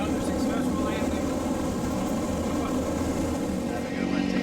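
A steady, loud, close roar of an airplane rolling out after landing at Lanai airport in Hawaii, a dense engine and cabin drone that holds evenly throughout without letup.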